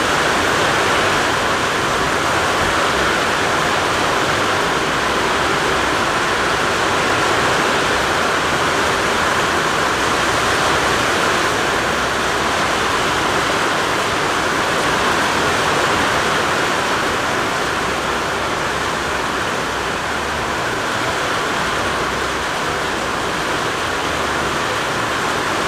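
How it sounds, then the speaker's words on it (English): Heavy rain pours steadily outside a woodworking shop, a dense unbroken hiss and rush of water as gutters overflow, loud and constant throughout with no voices. "The gutters are all starting to overflow."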